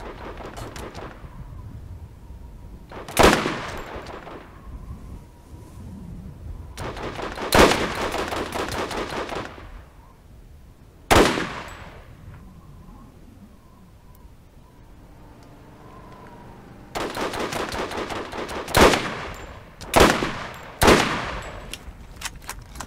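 Sniper rifle fire in the video game Borderlands: about six sharp, loud gunshots spaced several seconds apart, each with a short ringing tail, over a low steady ambient hum.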